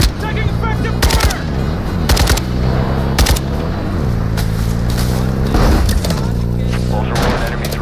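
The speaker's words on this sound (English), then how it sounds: "Taking effective fire!" Automatic gunfire in the video game Call of Duty DMZ, a loud, sustained exchange of rapid bursts over a droning engine-like hum, with sharp cracks repeating every second or so throughout.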